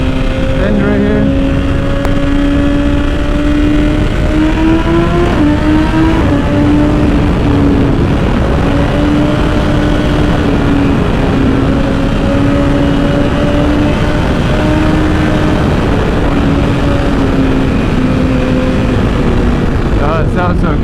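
A 2021 BMW S1000RR M with a titanium Akrapovic exhaust pulls hard through the gears, loud and close. Its engine note climbs, dips briefly at each shift, then settles into a steady high drone. Wind rushes throughout.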